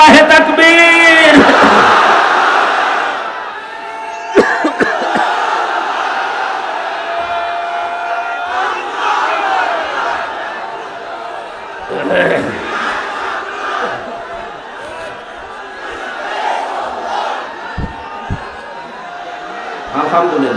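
A large outdoor religious gathering in Pabna, Bangladesh, shouts a collective chant in reply to a leader's call, a loud massed roar at the start, followed by scattered crowd murmur and a speaker's amplified voice.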